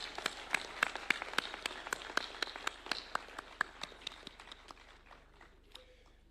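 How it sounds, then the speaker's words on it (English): Scattered claps from an audience at a university chancellor installation ceremony, a sparse, uneven run of sharp individual hand claps that thins out and fades toward the end. "Let's clap for AGF."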